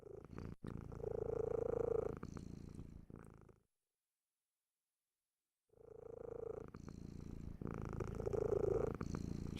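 Close, loud rumbling purr from a pet cat in two long stretches split by a silent gap of a couple of seconds, rhythmic breathing pulses running through each stretch.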